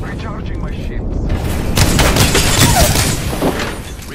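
Rapid video game gunfire crackles in loud, dense bursts throughout, layered with booming impacts, while a voice talks over the shooting.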